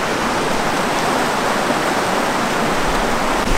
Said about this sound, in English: All right, we sit right here by the creek.